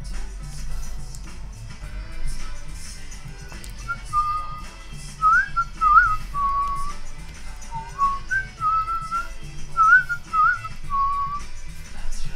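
A woman whistles a wandering melody to herself in short phrases with pauses between them, close and clear over a faint low hum, with no speech.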